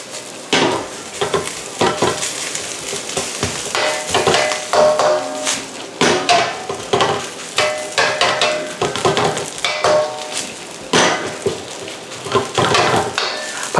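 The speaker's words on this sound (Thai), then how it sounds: "เร่งไฟให้แรงแล้วก็จะเริ่ม คั่วมันนะฮะ" XO sauce fried rice stir-fried in a wok over high heat, with continuous loud sizzling and repeated metallic scraping and clanking of the spatula against the pan.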